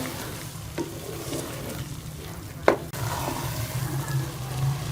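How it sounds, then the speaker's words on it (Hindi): Rice being stirred into melted sugar and mango puree in a pot for mango zarda, soft scraping and gentle sizzling at low level with one sharp knock of the spoon midway, no voices. "अब हम इसमें चावल शामिल कर लेंगे और चावलों को अच्छी तरह से पूरी के अंदर मिक्स कर लेंगे"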